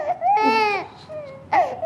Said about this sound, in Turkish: Etinden et koparıyorlarmış gibi ağlıyor.